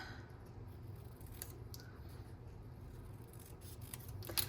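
Small sections of paper being cut out with scissors for a stamped pine tree craft: soft, close, repeated snips and rustles at low volume, with no talking.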